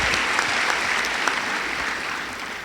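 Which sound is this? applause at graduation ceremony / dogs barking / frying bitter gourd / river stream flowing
applause at graduation ceremony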